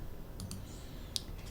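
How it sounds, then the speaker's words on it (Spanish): A computer mouse is double-clicked to open a program during a software tutorial: two quick, faint clicks close together, then a single sharper click a moment later over a quiet room hiss. "Lo que queremos hacer realmente es darle doble clic para que abra."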